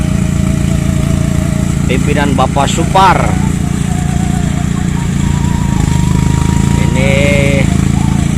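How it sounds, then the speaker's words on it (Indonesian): A rice threshing machine drones loudly and continuously during the paddy harvest in a rice field, a steady mechanical roar throughout while someone talks over it. "Kita akan melihat mesin rontok TLESER ya"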